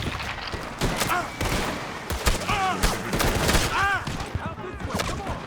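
Rapid bursts of gunfire in Red Dead Redemption 2, several shots cracking close together in a busy firefight with overlapping game sounds and shouting voices.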